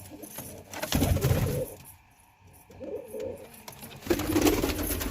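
Pigeons coo in soft, throaty bursts close by in a breeding loft with a chick among them, calls pausing briefly midway before resuming; no voices.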